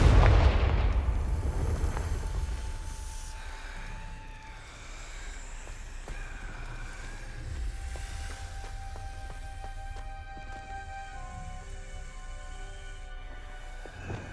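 A Confringo explosive spell goes off in the Hogwarts Legacy video game, a loud booming blast that rumbles and fades, followed by ringing magical tones and a low ambient hum.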